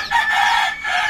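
A gamecock rooster crows once, close and loud, a single drawn-out call with no other sounds around it.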